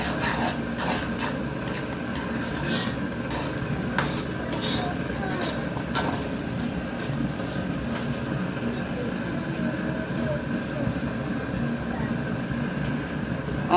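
Leek and green condiment being stirred in a cooking pot for a chicken and potato gratin, with steady scraping and clinking of a utensil against the pot over a constant low background hum.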